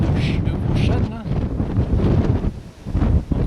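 Gusts of wind on an open hillside near a large oak on a sunny day buffet the microphone in uneven roaring bursts, with a voice speaking intermittently over the rumble.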